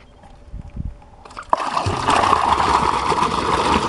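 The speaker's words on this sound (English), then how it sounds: "The water coming from the pool into the trough through a 3-inch hose." Pool water is drawn through a 3-inch siphon hose into a trough. Quiet, faint trickles give way to a sudden gush and then a steady, loud splashing flow that continues to the end.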